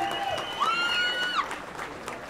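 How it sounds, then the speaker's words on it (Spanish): Applause rises from the audience at a Princesa Maya Xajla' pageant final verdict as the first finalist is named, a steady clatter of clapping with whistles or cheers over it. "Un aplauso, por favor."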